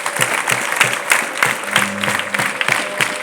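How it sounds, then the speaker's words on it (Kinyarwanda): A church congregation claps in steady rhythm to honor the Holy Spirit during a Kinyarwanda testimony, with even, regular beats and a soft tonal hum running underneath. "Ni ukuri mu mpere amashyi Roho Mutagatifu."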